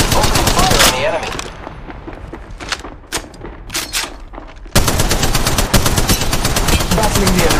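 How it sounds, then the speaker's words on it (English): Rapid bursts of automatic gunfire from the mobile shooter game Apex Legends Mobile, loud and dense with short pauses, over game sounds and occasional voice lines. "Contact with target. Open fire on the enemy."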